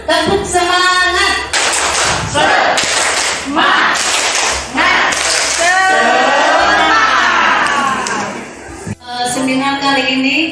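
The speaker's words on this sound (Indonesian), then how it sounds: "Semangat. Terus itu tepuk semangat." Seminar audience clapping the rhythmic 'tepuk semangat' pattern together, loud and close, with bursts of shouting and voices mixed in throughout.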